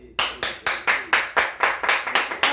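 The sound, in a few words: hand clap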